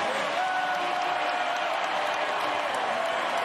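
A large stadium crowd at a college football game cheers and applauds in a continuous distant roar, while a voice talks over the noise.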